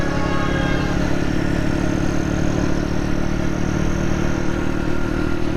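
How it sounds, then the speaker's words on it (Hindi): A motorcycle rides along a street in Karachi, its mid-pitched engine droning loud and steady close by with a clattery, rough texture as it pushes a little faster. "और यूं ही मैंने थोड़ी सी बाइक को तेज़ किया।"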